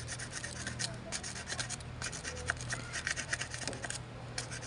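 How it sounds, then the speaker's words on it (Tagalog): Sandpaper on a corroded electrical contact of a Kia Pride dashboard: steady scratchy rubbing, short rasping strokes repeated rapidly and close up, with a low hum underneath. "Daanan mo siya ng liha, ganun."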